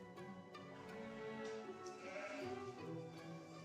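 Sheep bleat in a sheepfold, with several overlapping wavering calls over a faint farm background. The sound is soft and somewhat distant, with no talking.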